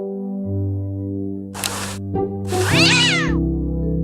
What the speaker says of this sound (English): What a pretty pussycat.